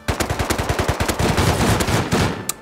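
Rapid automatic fire from an M2 rifle in the game Rust, a loud, close, continuous stream of sharp shots lasting a couple of seconds with no talking.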